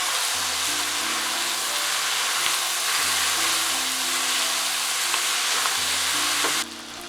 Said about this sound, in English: Add the noodles and the sauce. Stir from time to time for 3 minutes.